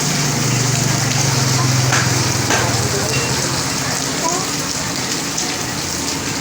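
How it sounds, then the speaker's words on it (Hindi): Steady, dense heavy rain hiss in Karachi with scattered drops tapping nearby, continuous and fairly loud, with a low hum in the first few seconds. "ये देखें बारिश हो रही है"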